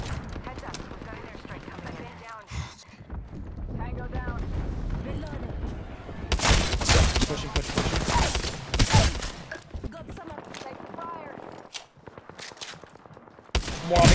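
Shotgun blasts boom in an Apex Legends firefight, several loud close shots clustered in bursts amid other weapon fire and explosions, with players talking over the action.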